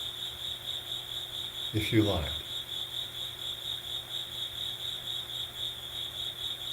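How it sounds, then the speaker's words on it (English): Crickets chirp in a steady, high, continuous trill during a calm guided meditation, with a brief soft spoken phrase near the start. "Now you can stay here with the sound of the cricket's music"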